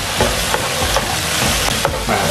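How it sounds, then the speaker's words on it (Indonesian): Meat is stirred in a hot pan, with a constant close sizzle of frying broken by repeated scraping strokes of a utensil. "Seperti ini baru kita aduk ya. Aduk sampai dagingnya agak kering."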